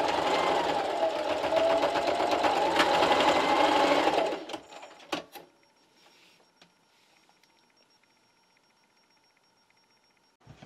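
A sewing machine stitches a mask lanyard, giving a steady, close, rapid mechanical whir for about four seconds before stopping, followed by a few faint clicks and near silence.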